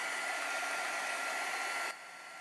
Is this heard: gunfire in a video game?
no